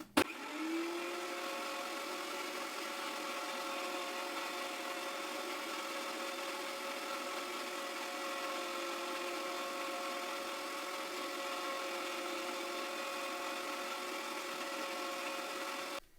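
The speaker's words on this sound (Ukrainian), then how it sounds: "Перемелюємо ще одну цибулину. Далі перемелюємо намочений крекер." An electric meat grinder runs steadily, grinding onion and soaked crackers: a sustained motor whine with a steady harmonic hum that starts abruptly and holds evenly without pause, with no talking.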